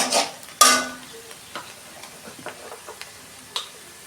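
Onions frying in a pan with oil, a faint steady sizzle punctuated by occasional stirring scrapes and taps of a spoon, with one louder burst near the start.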